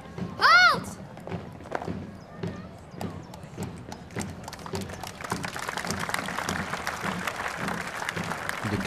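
Outdoor crowd applause at a Limburg marksmen's guild (schutterij) competition in Maasniel, a spread of distant claps building into sustained clapping, preceded by a loud shouted command and mixed with scattered thuds and movement.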